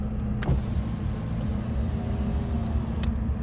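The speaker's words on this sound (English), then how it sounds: "Electric windows to show they work." Inside a Ford Orion Ghia, a Maltese import, a steady engine rumble fills the cabin while the electric windows run, with a faint motor whir between two sharp switch clicks, one near the start and one near the end.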